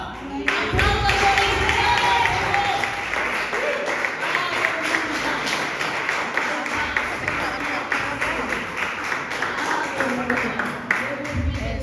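A church congregation applauds during a worship service, sustained clapping with rhythmic pulses over about twelve seconds, with voices and low sounds mixed underneath.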